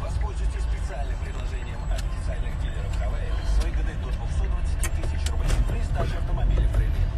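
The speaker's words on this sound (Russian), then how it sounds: "Ну, я на Солярисе еду, это не моя машина." Steady low engine rumble and road noise inside a moving Hyundai Solaris car, continuous and fairly loud throughout, with a voice talking over it at times.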